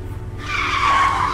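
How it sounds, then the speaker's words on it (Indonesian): A car brakes suddenly on a road, its tires skidding in a loud, sustained screech that builds from a rumbling start and holds steady for over a second, with no talking. "Kenapa ngerem mendadak begini?"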